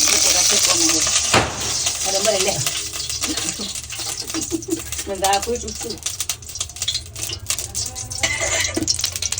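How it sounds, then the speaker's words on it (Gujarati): Peeled potatoes frying in oil in a kadai for garlicky lasaniya bateta, a steady sizzle with stirring and clinks of utensils, heard beneath a person speaking. "કઢાઈમાં તેલ નાખી દીધું છે. અને આજે આપણે બટેટા જે ફોલેલા હતા એને આપણે ફ્રાય કરવાના છે અને શેકવાના છે ને."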